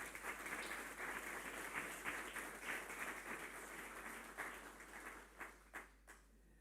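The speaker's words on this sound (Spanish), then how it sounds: "¿Alguien le quiere dar un aplauso al Señor entonces?" A church congregation applauds at a Sunday morning service, steady dense clapping from a crowd that thins into a few scattered, fading claps near the end, heard at a moderate distance in a reverberant room.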